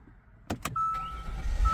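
A car started right after a part replacement: two quick clicks, then a thin starter whine, then the engine catching with a low rumble that builds at the end. The sound is fairly quiet, and nobody talks.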